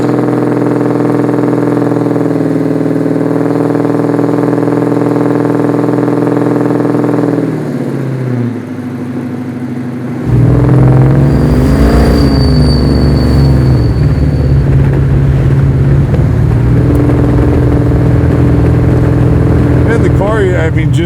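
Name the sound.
engine of a 500 whp garage-built 1970 Chevelle while driving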